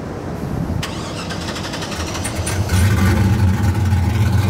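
Chevrolet Camaro SS 1LE, a 35th anniversary edition, starts up on a dyno: a short crank then the engine catches and settles into a loud, rumbling idle close by.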